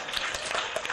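Hands clapping in a quick burst of applause lasting under a second, fairly loud and close.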